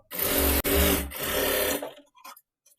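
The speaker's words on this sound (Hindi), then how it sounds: "इस तरीके से आधा इंच फोल्ड करते हुए आपको सिलाई लगाना है।" A sewing machine stitches along a half-inch folded fabric edge: a steady, close motor whir with one brief break, then it stops, leaving faint handling sounds.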